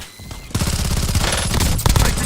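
Dense automatic gunfire in Call of Duty: Warzone, a loud sustained burst of rapid shots starting after a half-second lull, with heavy booming impacts near the end.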